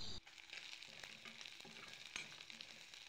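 Taro stolons are fried and stirred in a pan for a curry. A soft, continuous sizzle plays close but faint, broken by scraping spatula strokes, with no voices.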